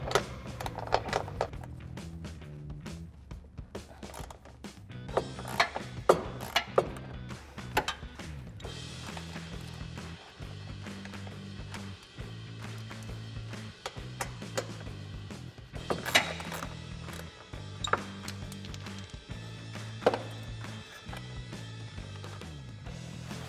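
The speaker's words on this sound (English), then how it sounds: "I'm going to remove the bumper from the bracket with a 16mm socket" A ratchet with a 16mm socket turning bolts to remove the rear bumper from its bracket on a Jeep Wrangler JL, giving repeated clicking bursts in a steady rhythm over a low background hum.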